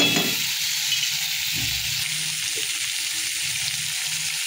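Tomato and onion fry in oil in a pan, giving a steady close sizzle with soft stirring scrapes and a few small clatters throughout.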